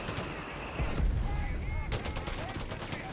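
Johnson light machine guns fire in Company of Heroes 3, with rapid bursts of close automatic gunfire cracking over a busy battlefield din and brief whistling sounds, loud and nearly continuous.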